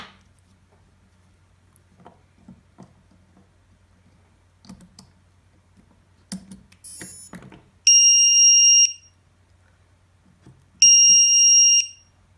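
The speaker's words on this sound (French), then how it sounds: "ce que vous entendez, c'est normal, c'est le buzzer." FPV racing drone (ZMR250 build) buzzer beeping after the battery is connected: two sustained, loud, high electronic tones about a second each, separated by a pause, following faint clicks and handling noises.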